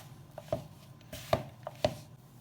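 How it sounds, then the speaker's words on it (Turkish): Soft, sticky pastry dough for bakery-style poğaça is worked by hand on a surface, giving four muffled, irregular thumps and pats close by over quiet background noise. "Şimdi güzelce yoğuracağım."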